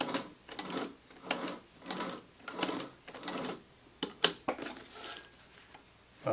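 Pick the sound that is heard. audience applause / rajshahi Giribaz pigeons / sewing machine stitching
sewing machine stitching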